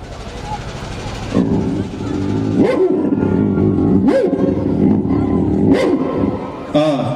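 A performer at the Lamjung Mahotsav festival stage imitates a dog with his voice, giving three or four loud, roaring bark-like yelps spaced about a second and a half apart, over crowd noise and stage ambience.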